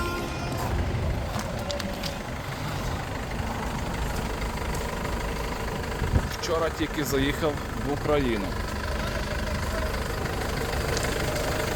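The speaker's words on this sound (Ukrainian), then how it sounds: "Двигунчик працює ідеально все ціленько" A 2016 Mercedes-Benz Sprinter flatbed van's diesel engine idles with a steady low rumble beneath someone speaking nearby.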